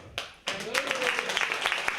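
An audience at a Udmurt community concert in Moscow claps for a performing ensemble: scattered sharp claps, a short pause, then a fuller run of rhythmic hand claps with a voice rising briefly over them.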